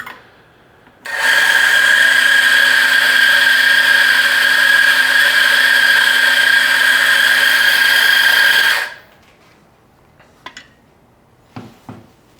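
A Super Jolly burr grinder, its burrs still new, grinds espresso beans in one loud, steady motor whine that lasts about eight seconds and then cuts off. A few faint clicks and taps follow.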